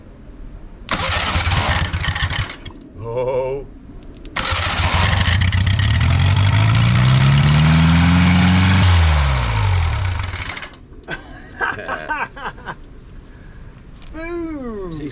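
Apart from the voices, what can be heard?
car engine starting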